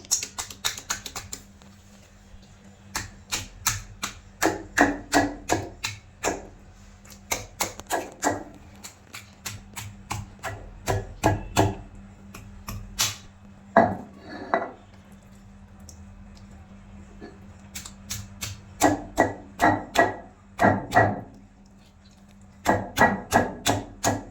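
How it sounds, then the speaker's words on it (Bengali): Chicken breast being pounded on a flat stone grinding slab (pata) in a home kitchen; bursts of sharp, close, rhythmic thuds in quick clusters, separated by short pauses, with no talk. "চিকেনটাকে একটু থেতলে দিতে হবে, তো এর জন্য আমি পাটাতে নিয়ে নিয়েছি"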